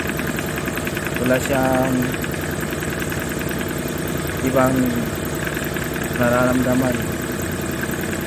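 A car engine idles steadily during an ignition coil test, a loud continuous rumble with a few brief louder surges, while someone talks over it.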